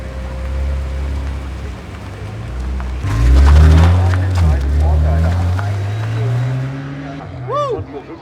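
Race car returning to the pit lane during the Nürburgring 24 Hours, its engine rising loudly and passing close by amid surrounding crowd noise and chatter.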